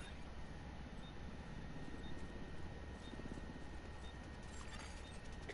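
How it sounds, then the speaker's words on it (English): In the video game The Division 2, an extraction helicopter approaches with a steady, distant, rumbling rotor drone that stays faint and even throughout, with no voices. "Extraction helo. Almost within range."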